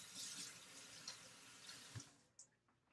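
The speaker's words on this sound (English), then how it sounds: "And then I'm going to wash my hands." Water runs from a tap as hands are washed after cleaning out pumpkins, a faint, close, steady splashing stream that stops near the end, followed by a couple of small knocks.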